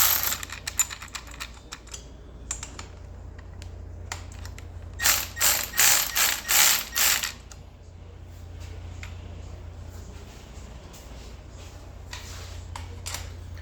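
A hand ratchet tightens the riser bolts on a motorcycle handlebar during a springer fork install, giving rapid clicking pawl runs with a louder burst of ratcheting strokes midway, close and clear with little talk.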